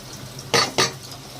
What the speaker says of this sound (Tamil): பச்சை மிளகாய் ஆட் பண்ணணும்